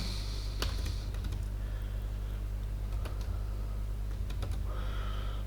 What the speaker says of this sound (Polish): Wpiszemy login.